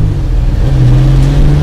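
Inside a classic Triumph GT6 sports car, the engine hums loudly and steadily as it revs, a close low drone that rises slightly in pitch and continues without a break.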